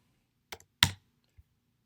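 A few isolated clicks from a computer keyboard, two close sharp keystrokes followed by a faint one, quiet and sparse against silence.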